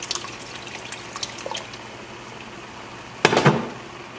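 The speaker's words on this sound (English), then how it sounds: "add a little bit more water." Water is poured into a pot of simmering green bean vegetarian rice, a short, loud splashing gush near the end after a quieter stretch of faint bubbling and small drips.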